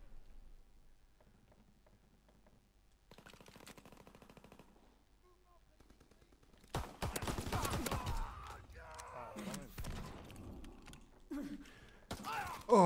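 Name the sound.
gunfire from Call of Duty WWII video game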